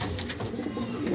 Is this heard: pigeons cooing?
yes